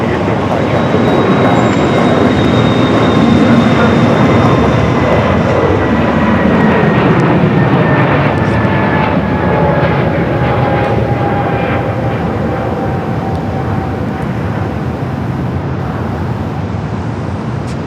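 A jet airliner takes off from runway 7 left at Phoenix Sky Harbor, a loud, sustained engine roar with falling whine tones that builds and slowly drifts, with radio chatter faintly beneath.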